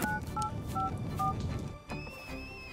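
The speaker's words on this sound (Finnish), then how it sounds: "Puhelimesi soi taas." Cartoon telephone sounding in short repeated electronic tone bursts, several evenly spaced beeps over a busy backdrop of music and effects, fairly close and moderately loud.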